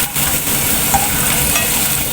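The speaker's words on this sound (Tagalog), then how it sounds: "gigisa na lang po tayo. Naka-preheat na po yan. So, unahin natin ang bawang." Garlic sautéing in a preheated pan while making macaroni soup, a steady close sizzle and frying hiss running continuously without pause, with no voices.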